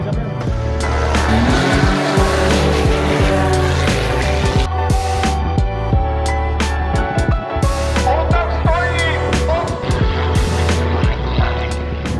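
Cars drive hard with tires squealing at the Ice King Show, a motoring event in the Czech Republic; loud, continuous engine roar and squeals run throughout under music.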